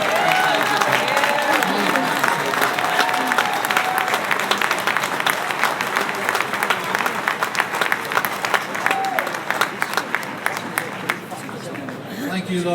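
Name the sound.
crowd applauding at commemoration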